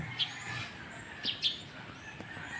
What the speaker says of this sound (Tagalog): Yan, uwak pala yung mga tropa.